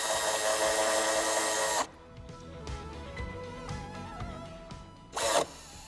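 A power tool tightens a fastener while a tow hitch is being installed on a 2021 BMW 4 Series G23 Cabrio: a loud close whir for about two seconds, quiet handling clicks, then a second brief burst.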